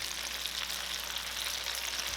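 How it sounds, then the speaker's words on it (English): Steady, dense crackling sizzle of chicken deep frying in hot oil during a second fry, continuous and close, with no voices. "return the chicken and deep fry for another 2 minutes until they are super crispy"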